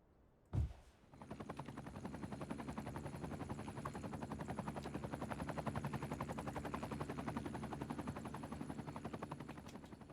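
Steady rapid rotor chop of a helicopter at a hospital helipad in Cities: Skylines 2, preceded by a sharp thump, then a continuous loud whirring pulse throughout with no talk.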